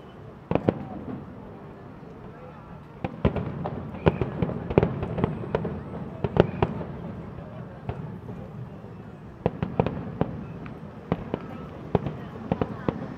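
Fireworks burst in a rapid series of sharp cracks and booms at the 31st Macau International Fireworks Display Contest, heard from a distance through a crowd's murmur, with dense clusters of pops and brief lulls.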